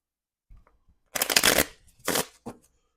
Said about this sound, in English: So we'll give it a quick shuffle here.